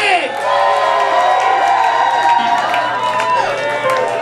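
A live show audience roars with loud, sustained cheering, whoops and shouts that fill the whole clip without a break, rising slightly near the end.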